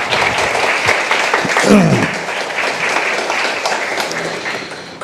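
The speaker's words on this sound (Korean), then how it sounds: "박수 한 번만 치고 시작하겠습니다" Moderate round of clapping from a room of people congratulating newly passed written-exam candidates at an interview prep session, steady and fairly close, with a brief voice breaking through midway.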